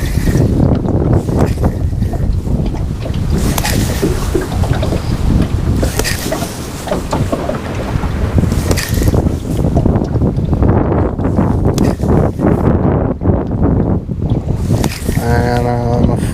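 Strong outdoor wind buffets the microphone on a fly-fishing outing, with loud, continuous gusting and rumble throughout and a voice heard now and then.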